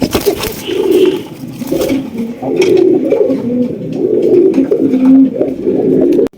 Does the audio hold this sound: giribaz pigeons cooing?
yes